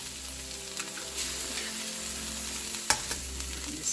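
Eggs are scrambled into Thai curry Dungeness crab in a hot pan, with a steady close sizzle and soft scraping from stirring, plus one sharp clack near the end.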